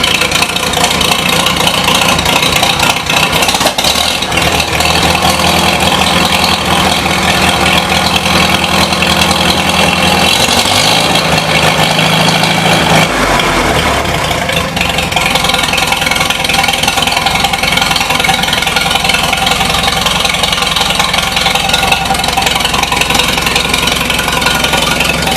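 A 1953 Farmall Super H tractor engine runs on for a long stretch, a loud, close, uneven chugging idle with a brief change in tone partway through before settling back into its steady beat.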